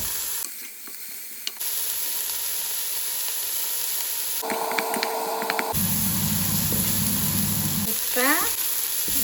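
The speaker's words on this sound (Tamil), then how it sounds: "லீட்ஸையும் போட்டு வதக்கும்" Leeks and carrots sautéing in sesame oil in a pan, a steady sizzle with brief clatters and stirring sounds, close and moderately loud, with no talking.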